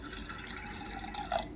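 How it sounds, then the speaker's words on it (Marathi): Water trickles and drips steadily into a pressure cooker over masoor lentils, fairly quiet and close, with a slightly louder splash near the end. "मसूर बुडेल इतकं इथे आपल्याला शिजण्यासाठी पाणी घालायचे"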